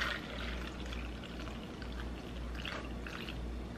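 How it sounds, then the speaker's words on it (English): Cold brew coffee poured into a reusable venti cup over six ice cubes, a steady soft liquid pour running continuously at close range with no talking. "I'm going to go ahead and pour in my cold brew"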